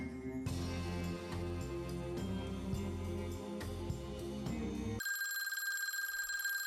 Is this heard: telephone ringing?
yes